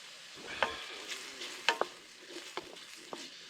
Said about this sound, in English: We're sizzling away there.